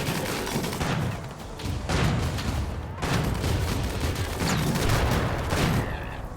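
War urchins in RimWorld fire dense, overlapping volleys of gunshots in sustained bursts. The crackle stays at a moderate level with brief lulls around two and three seconds, and a faint voice sits underneath.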